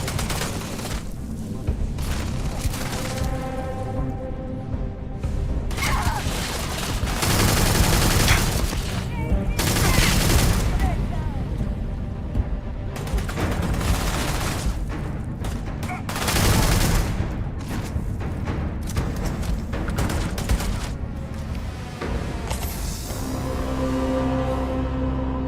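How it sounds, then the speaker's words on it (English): Gunfire in the sci-fi video game Starfield comes as dense, loud bursts of rapid shots and booms that run almost without a break, with a voice speaking briefly among them. "Where in the hell are they shooting me from?"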